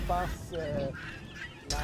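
Farm-raised guinea fowl in a forest setting give harsh, honking calls in quick repeated bursts, close and loud against a steady low background.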